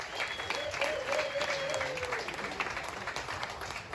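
Steady applause from a crowd at the London Ribfest, dense clapping sustained throughout, with a faint whistle or cheer rising briefly in the middle.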